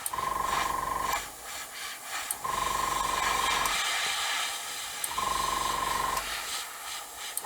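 Airbrush spraying paint in even strokes: three steady hissing bursts of about a second each, separated by short pauses, close and fairly quiet, with a faint whistling tone during each spray.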